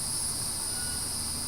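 Crickets chirp in a steady, continuous high-pitched drone that carries evenly through the whole stretch with no voices over it.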